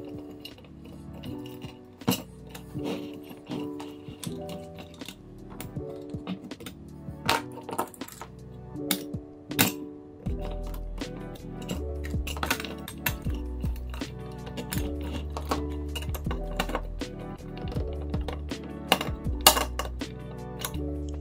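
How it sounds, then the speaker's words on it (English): A glass panel being fitted into an IKEA lantern, with scattered sharp clinks and taps of glass against metal over light background music, some hits louder and close, no talking. "last bit is attaching the glass"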